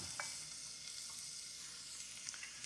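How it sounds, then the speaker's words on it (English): Chopped onions frying in a hot pan for a brown rice pilaf, a faint, even sizzle with a few light clicks of stirring. "Now, I've got a pan on the heat already, and into that pan I'm going to put some onions."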